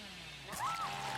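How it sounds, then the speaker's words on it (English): Hillbilly's chainsaw in Dead by Daylight revs up in a short burst, a rising whine swelling over a low steady hum before settling into a sustained buzz, heard alone and fairly close. "By holding down mouse 2, on PC of course, you'll begin to rev your chainsaw."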